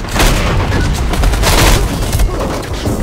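Grenade blast amid gunfire in Metro Conflict: The Origin, loud booming bursts and rattling shots packed densely across a few seconds.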